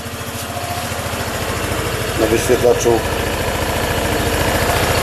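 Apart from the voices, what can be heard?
motorcycle engine idling after first start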